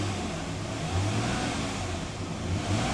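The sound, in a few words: Dodge Dakota 3.7 engine revving with throttle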